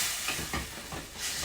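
Masala sizzling in a pan after a splash of water, a steady hiss with soft bursts of spitting and crackle, close and moderately loud with no talk.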